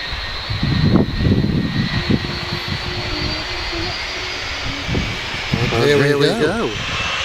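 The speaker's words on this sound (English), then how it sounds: "Ryanair taxiing out behind him." A Ryanair airliner taxis at Manchester Airport, its engine whine a steady distant hum under wind noise throughout, with louder rumbling bursts near the start and end.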